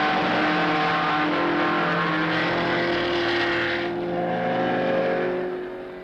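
Ford Escort rally cars, including Escort GT and twin-cam models, race a five-lap figure-8 sprint, engines roaring loud and close with steady high revving that dips briefly as a car passes before building again.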